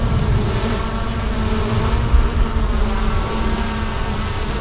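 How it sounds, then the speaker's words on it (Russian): A droning hum of an airplane passing overhead at a campsite in Korea, steady and moderately loud, with a faint buzzing tone running through the whole stretch. "Подожди, самолет пролетит хотя бы."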